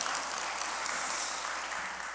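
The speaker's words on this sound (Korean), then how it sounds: "다시 한번 크게 박수 한번 보내주십시오" A church congregation claps for a pastor's granddaughter during announcements before a worship service, a steady wash of applause holding at an even level throughout.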